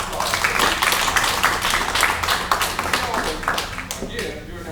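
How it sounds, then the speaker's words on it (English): An audience claps at a Boy Scouts of America Troop 70 Court of Honor ceremony, with a burst of close, lively applause that fades toward the end. "give them a round of applause"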